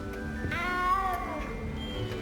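A frightened little cat in the Hogwarts Legacy video game gives one drawn-out, wavering meow that rises and falls, close and clear over a steady low game ambience.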